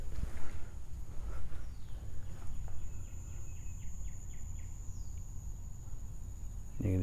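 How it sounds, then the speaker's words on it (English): Faint bird chirps and trills in the distance over low outdoor rumble, with a steady high insect-like whine throughout. "You can just hear the birds going crazy"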